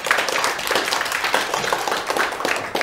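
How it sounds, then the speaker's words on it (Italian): A studio audience claps steadily for Mister Notaio on an Italian television quiz show, a dense, even patter of many hands held at a constant level throughout. "fate un applauso a Mister Notaio"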